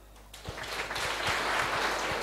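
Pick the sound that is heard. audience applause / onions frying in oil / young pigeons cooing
audience applause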